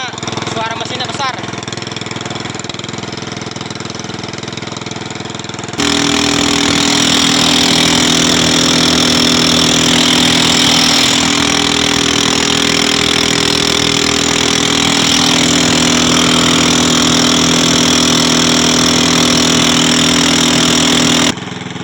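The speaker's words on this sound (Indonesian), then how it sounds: "Sorry lah berisik, soalnya suara mesinnya besar." A large engine runs loudly at a sero fish trap, a continuous heavy motor drone that grows louder and harsher partway through and holds steady to the end.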